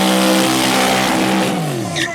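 A drag racing car does a burnout in the left lane at Streetweek Sweden, a loud, close roar of spinning tires and revving engine with the pitch sliding downward as it eases off.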